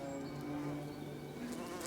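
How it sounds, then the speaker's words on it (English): A bee buzzing on a thistle flower, recorded very close, a faint sustained tonal hum with a wavering pitch that shifts slightly partway through, alone and quiet. "When some bees enter the head of a flower, they'll physically vibrate the thorax to make more pollen fall from the flower onto its body."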